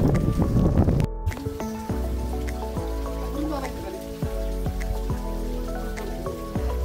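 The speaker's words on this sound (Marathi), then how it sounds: "पाऊस आलेला आहे आता" Rain dripping at a hill fort in monsoon weather, irregular close drips and splashes over steady background patter, with a voice briefly heard at the start.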